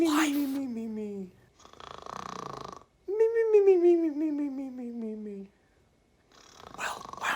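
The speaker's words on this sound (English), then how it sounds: "No one snores like that in real life." Exaggerated, cartoon-like snoring from a person: long rasping, growly snores with pitch sweeps alternate with wheezy breaths, loud and close, in several drawn-out cycles.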